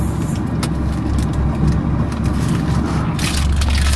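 A car on a 30-minute drive home in Japan with Mama Aya driving, a continuous loud low road-and-engine rumble heard from inside the cabin, with a few faint knocks and no talk.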